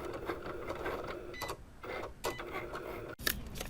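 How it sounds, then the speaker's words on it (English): A Cricut machine cuts a paper card with a steady mechanical whir, its motor buzzing continuously with brief pauses and a short clack near the end, close and moderately loud. "now it's cutting the card"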